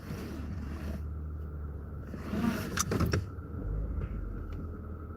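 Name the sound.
car being parked with engine running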